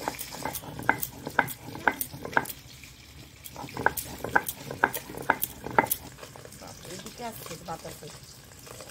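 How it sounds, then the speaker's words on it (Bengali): Fish frying in oil in a pan with steady sizzling, broken by sharp rhythmic knocks and scraping of a utensil against cookware, close by. "ওদিকে মাছটা ভাজা হোক"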